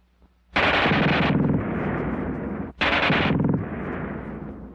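German Schmeisser submachine gun in a 1943 WWII shooting test firing two long, loud automatic bursts, each a fast rattle lasting about two seconds, separated by a brief pause.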